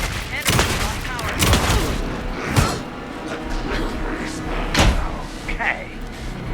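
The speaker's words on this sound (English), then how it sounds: "Anderson, pin him down with gunfire for me to get the light on him." Gunfire in the Alan Wake 2 video game: several sharp broadband bursts spaced about a second apart, loud and close, mixed with game ambience and a voice speaking.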